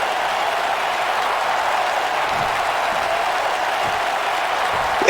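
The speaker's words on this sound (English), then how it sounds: "This crowd is electric." A wrestling crowd in Biloxi cheering and applauding in a steady, loud roar of noise that holds level throughout, with a sharp swell right at the end.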